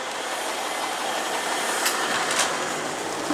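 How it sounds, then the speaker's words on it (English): Train rolling into a station in Cardiff city centre, a steady loud rumble with broadband rail noise and brief hissy bursts, continuous throughout without talk. "Oh, here comes our train."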